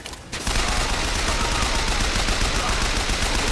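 Rapid automatic gunfire in the video game Bioshock Infinite, a dense continuous burst of shots that starts abruptly after a brief quieter moment and keeps going loud and close.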